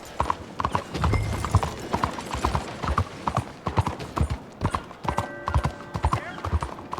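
Horse hooves clip-clop in a quick, even rhythm in Red Dead Redemption 2, close and distinct, with someone talking over the hoofbeats.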